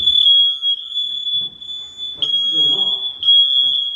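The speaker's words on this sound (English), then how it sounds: "disable this smoke alarm because it wouldn't stop going off" A ceiling smoke alarm shrieks with a piercing continuous high beep during a house renovation, loud and close, with brief muffled voices and bumping beneath it.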